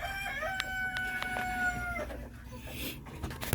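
Backyard chickens, including a Bantam Japanese whitetail rooster, give a close crow followed by scattered clucks, fairly faint, with a voice briefly present.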